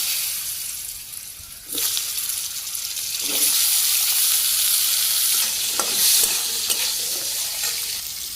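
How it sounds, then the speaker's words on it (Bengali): Potatoes drop into hot oil tempered with bay leaf, cumin and dried chili, bursting into a loud, close sizzle with stirring scrapes that keep frying steadily throughout. "আমার এই যে ফোড়ন এসে গেছে, আলুগুলো ছেড়ে দিই।"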